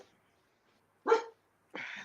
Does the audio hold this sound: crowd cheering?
no